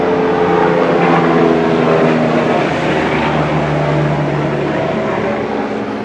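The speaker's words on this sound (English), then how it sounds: "Excuse the helicopter." A helicopter flying overhead, a loud, steady rumbling drone with a throbbing engine tone that fills the whole stretch and fades only slightly toward the end, with no talk.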